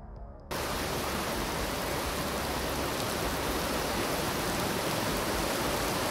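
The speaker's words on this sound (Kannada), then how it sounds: "ಮಳೆ ಅವಾಂತರದ ಆ ದೃಶ್ಯಗಳನ್ನೇ ತೋರಿಸ್ತೀವಿ ನೋಡಿ." Heavy, wind-driven rain falling at night in Bengaluru cuts in after a brief quiet start, then pours on as a dense, constant roaring hiss.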